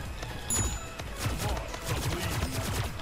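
Rapid gunfire in the arena shooter Splitgate: Arena Warfare, a fast string of close shots with one louder burst early on, then continuing clustered firing.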